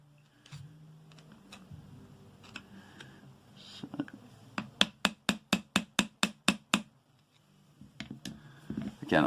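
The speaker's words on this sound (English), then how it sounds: "Again, I'm smacking that pretty hard because it's part of the actual outside of the trigger box." A hammer strikes the trigger box of a Tokyo Marui MWS M4 gas blowback rifle, with a rapid, even run of about a dozen sharp, close blows after some quieter scraping and handling noises.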